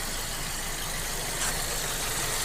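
Volkswagen Golf 5 with a 1.6 petrol engine idling after new spark plugs, a steady, even running hum with no talk over it.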